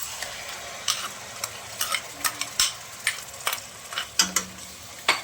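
Tomato puree fries in hot oil in a pan, giving a steady crackling sizzle broken by repeated scraping and stirring clicks from a utensil, heard close with no talking.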